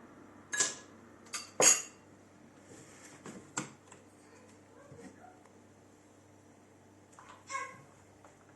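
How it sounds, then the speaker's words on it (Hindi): Ice cubes dropped into a glass for banana lassi give a few sharp, bright clinks and rattles, spaced out and close in an otherwise quiet kitchen. "अब हम डालेंगे थोड़ी सी बर्फ।"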